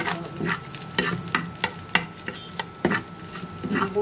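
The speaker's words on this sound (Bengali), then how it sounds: "বোনের হাতে সুস্বাদু নুডলস রান্না হচ্ছে, ডিম হয়ে গেছে" Noodles with egg being stirred in an oiled pan with onion and chili, a steady sizzle of frying broken by repeated scraping stirs of the utensil against the pan, close and alone.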